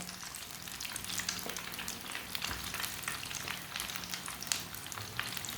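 Potato and moong dal pakoras sizzle steadily in hot oil, a dense continuous crackle with scattered sharper pops, close and fairly loud with no talking.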